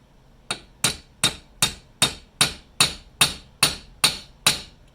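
Eleven evenly spaced metallic hammer taps on a roll pin fitting a cast iron distributor gear, sharp and close, at a steady rhythm with quiet between strikes.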